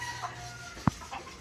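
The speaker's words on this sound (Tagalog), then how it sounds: "Naku! Mga manok kayo." A farm hen, kept alongside pigs, gives a few soft clucks plus one short, sharper cluck partway through, close by and fairly quiet against a faint background.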